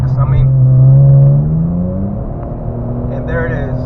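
A tuned Infiniti Q60 pulls hard in drive at highway speed from about 80 mph, its engine droning loud and steady with a rising tone before easing slightly, and no talk is heard over it.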